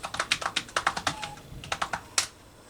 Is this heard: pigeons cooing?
no